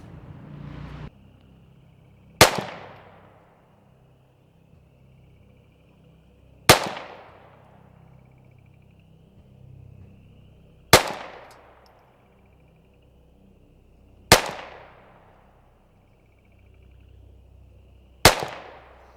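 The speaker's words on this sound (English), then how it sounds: "We're going to shoot the Volquartsen LLV on the 2245 frame with the Burris Fastfire 4." A Volquartsen LLV .22LR target pistol on a 2245 frame with a Burris Fastfire 4 fires five single shots, each a sharp, loud crack with a short decaying tail, spaced about four seconds apart, close by with no talk.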